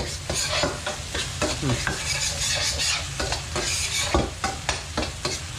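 Shrimp paste stir-fried in a hot pan for a fresh-shrimp and stink bean dish, sizzling steadily while a utensil scrapes and taps the pan in an irregular rhythm.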